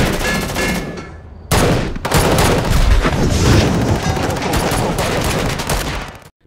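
Loud, dense gunfire from a film shootout between agents and a gang, rapid overlapping shots and booms sustained for several seconds after a brief lull near the start, with no speech.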